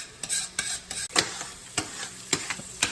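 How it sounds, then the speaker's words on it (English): Garlic sizzles gently in oil in a pan, with a steady frying hiss broken by repeated scraping stir strokes from a spoon at an irregular rhythm, heard close up and alone. "right now all you want to do is kind of just saute the garlic"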